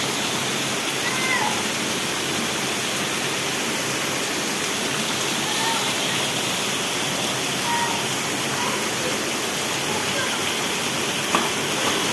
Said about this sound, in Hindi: बारिश हो रही लपक के